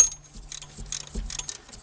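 A ratchet wrench loosens a 12mm alternator bolt on a 2004 Toyota Avalon, giving close, quiet bursts of rapid clicking in short strokes with brief pauses between them.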